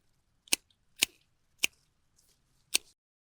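Salvia stems being cut back in a garden border give four crisp, separate snips at uneven intervals, close and fairly quiet against a near-silent background.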